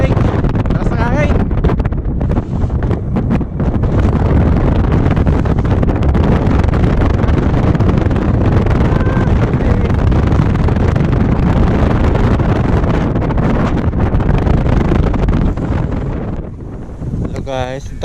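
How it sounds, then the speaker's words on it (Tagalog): Strong wind roars steadily into the microphone with heavy buffeting at the top of a cable car ride, easing slightly in the last few seconds. "Sobra ang lamig. Taras ng hangin."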